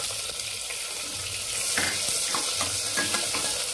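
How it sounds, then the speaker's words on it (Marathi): Finely chopped onion hitting hot oil with green chillies in a pan for veg pulao, a steady bright sizzle that swells as it is stirred, with scraping clinks of the spoon. "मग त्यानंतर आपण याच्यात मिरची जराशी भाजली की त्यामध्ये आपण हे 1 बाउल बारीक चिरलेला आपला कांदा टाकायचा।"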